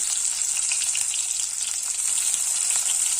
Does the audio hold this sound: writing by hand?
no